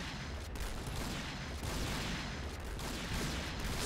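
Dense, continuous in-game gunfire from the shooter Point Blank, with bursts of rapid shots and booms rolling without pause at a steady moderate level.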